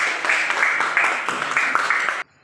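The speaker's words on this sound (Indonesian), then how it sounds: "tepuk tangan untuk teman-teman kalian yang sudah" Classroom applause for classmates, a steady patter of many hands clapping together for about two seconds before cutting off abruptly into silence.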